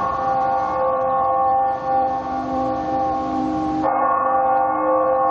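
Deep church bells ring in Dallas in a steady, resonant sustained toll, honoring John F. Kennedy on the 50th anniversary of his assassination, their long hum layered and swelling before a brief shift near the end.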